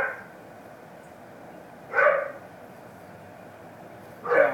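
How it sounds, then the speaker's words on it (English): A dog barks twice outdoors, two short, fairly loud woofs spaced a couple of seconds apart over a low background hum. "Dog's barking like crazy."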